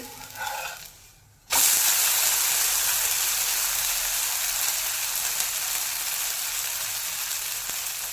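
Amboli, a soft rice pancake, is flipped in a hot pan. Quiet scraping gives way to a sudden loud, close sizzle that holds steady and slowly fades, with no voices.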